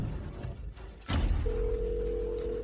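A telephone rings with a steady electronic tone that begins about midway, following a heavy thump and sustained low background noise.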